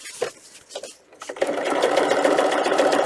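A sewing machine stitches a fabric book protector, starting with a few short hesitant bursts and then settling into a steady, fast continuous whir of needle strokes.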